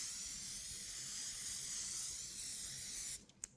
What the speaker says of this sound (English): now we are going to spray this again